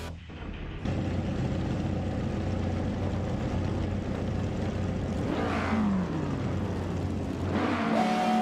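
Race cars run on a vintage circuit, the Autodromo Oscar Juan Galvis. A continuous loud engine drone fills the clip, and cars sweep past with rising and falling pitch near the end.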